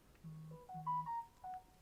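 A mobile phone in a Lowe's store plays a short, soft melodic ringtone for an incoming call, a few rising and falling electronic tones at low volume against quiet background noise.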